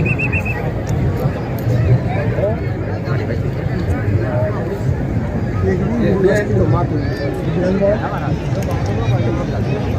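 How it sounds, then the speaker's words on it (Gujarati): Horses at a village horse race in Banaskantha, Gujarat, with hoof clatter and the occasional whinny coming through a loud, busy crowd and steady commentary over a loudspeaker. "કનુભાઈ રાવળ ધનુભાઈ રાવલ મીરા નામની ઘોડી લઈને આવી રહ્યા છે"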